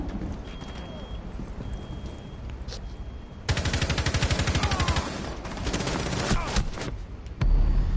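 Gunfire in the video game Rainbow Six Siege: a sudden loud burst of rapid automatic shots midway, then scattered quieter shots and a final sharp blast, with a steady hum underneath.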